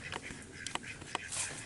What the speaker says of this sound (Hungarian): Itt huncutkodnak, nézzétek meg a kacsák.